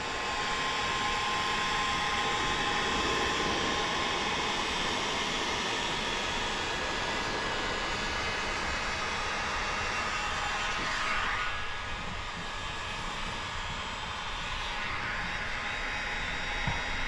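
A heat gun blows a steady, loud hiss of hot air as paint protection film is warmed into the wheel well of a 2018 Jaguar F-Type bumper, running continuously with no talk.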